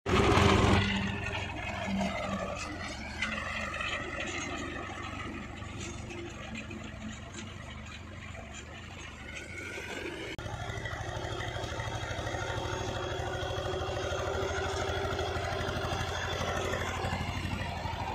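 An HMT 2522 tractor engine idles in a field during dry paddy sowing, a steady mid-pitched rumble with clattering texture that holds for the whole stretch, slightly changing tone partway through.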